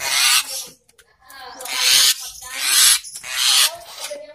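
Garden myna (jalak kebun) kept in a backyard, giving three harsh, hissing, raspy calls in a row, loud and close, separated by short pauses.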